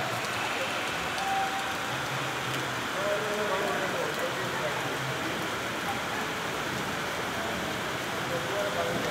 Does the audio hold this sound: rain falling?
yes